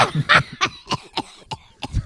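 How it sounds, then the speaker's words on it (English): A run of about eight harsh, wheezy coughs in quick succession, close and fairly loud, with no talking. "wheezing and coughing with laughter alarmingly"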